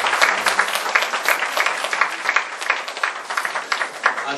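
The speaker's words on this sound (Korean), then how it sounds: "우리 다시 한번 큰 박수로 한번 보내주세요" A church audience applauds a youth group's play at a Korean church festival, with lively, continuous clapping that rises and falls slightly and carries no voices.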